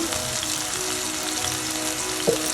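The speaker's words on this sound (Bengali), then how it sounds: "এখন আমি ভালো করে মশলাটা কষিয়ে নেব" Masala with chilli powder, garam masala and salt fries in a pan with a steady, soft sizzle and one brief louder crackle near the end; no one speaks.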